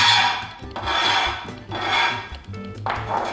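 A bench scraper rasps across a cutting board, gathering chopped vegetables in three long, loud scraping sweeps separated by brief pauses.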